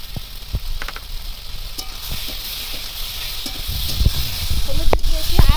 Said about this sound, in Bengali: হলুদ দিয়েছি আর ঢাকা না দিয়েই এমনি আর একটু সবজিটা ভাজবো